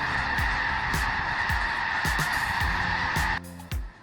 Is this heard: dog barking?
no